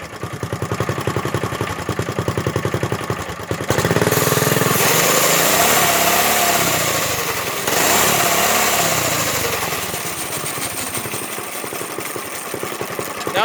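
A small engine on a three-seater go-kart revs up loudly, rising to a sustained roar, easing, then surging again before settling back toward a rough idle, close and dominant with no talk.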